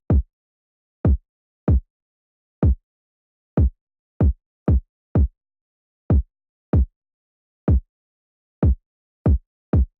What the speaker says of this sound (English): So I put in this very simple minimal kind of kick pattern just to finish off the drums.